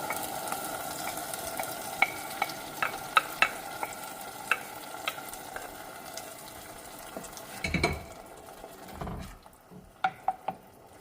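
Quick homemade marinara sauce ingredients sizzle steadily in a pan while a utensil stirs and taps against the metal, producing scattered sharp clicks over the constant frying hiss.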